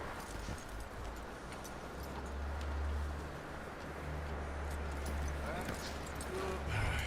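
Horse hooves clop steadily in Red Dead Redemption 2, close by and fairly faint. A low rumbling game ambience and some voices are heard around them.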